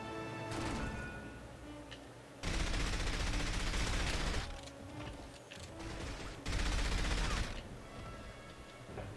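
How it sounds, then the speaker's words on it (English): Enemies fire in the video game From Russia with Love, in the Istanbul stage, with bursts of heavy automatic gunfire in two loud stretches separated by quieter game noise. "There's guys that shoot at me during..."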